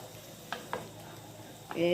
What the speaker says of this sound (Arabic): يبقى احنا مع بعض بنقلب هون عليه شويه نقلب كده لحد ما تاخد لون خالص